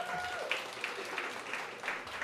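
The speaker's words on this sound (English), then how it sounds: "big hand of applause for all that good work you've done over the years" Quiet applause from diners at a private chef's cooking-class demonstration dinner, a soft continuous patter of clapping heard at a distance with faint room noise.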